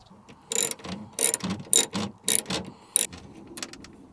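A ratchet tightens a bolt on an anti-theft part of a Tacoma in short, sharp bursts of clicking, about six rapid strokes at a steady rhythm, close and distinct with quiet gaps between.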